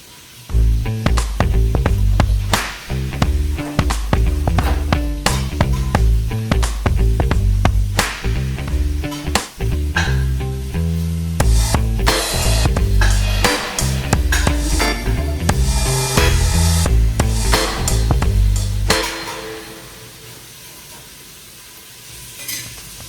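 Loud, steady crackling and sizzling of bacon frying in a pan for collard greens, busy and continuous, then dropping away sharply near the end.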